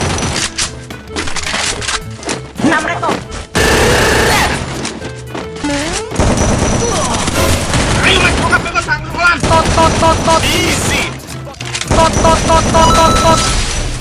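Loud, dense shotgun fire and explosions from a video game, sustained bursts and booms layered with in-game voices and excited talk from players throughout.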